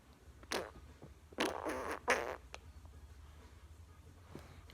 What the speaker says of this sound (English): Dude, stop farting.